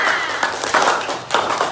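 A classroom of children claps for a classmate, a dense patter of small hands with a few louder swells, close and brief, with faint voices mixed in.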